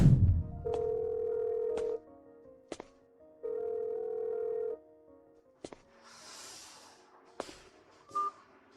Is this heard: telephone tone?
yes